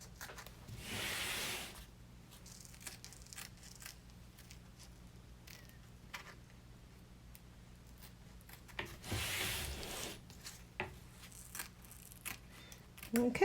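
Scissors snip and rub while trimming vinyl applique around a koala's nose on an in-the-hoop embroidered purse, two short bursts of cutting separated by quiet, close and soft.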